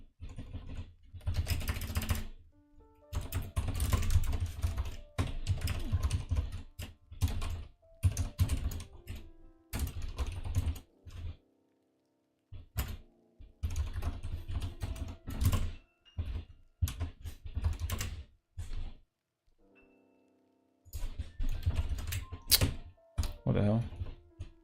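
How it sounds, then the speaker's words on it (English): Typing on a computer keyboard while editing in Vim: rapid bursts of clattering keystrokes broken by short pauses and occasional heavier key thunks, close and fairly loud throughout. "Jesus, what's going on with my typing today?"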